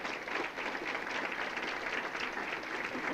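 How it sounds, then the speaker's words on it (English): Dinner audience at a 1999 community recognition event applauding three committee members, a steady, moderately loud wash of many hands clapping throughout. "Please give them a round of applause."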